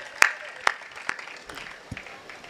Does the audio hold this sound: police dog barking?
no